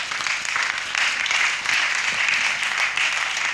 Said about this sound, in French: Est-ce qu'on peut acclamer les frères?